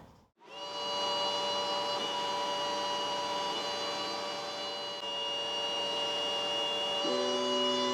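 WeCreat Vision laser engraver cutting a wooden spring sign runs as a steady, close machine drone full of sustained tonal whines, starting abruptly after a brief silence and shifting pitch near the end.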